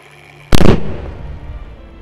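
A single loud, close blast from detonating old World War I ammunition in the Carpathians hits sharply after a quiet moment, then rumbles and decays over more than a second. No speech accompanies it.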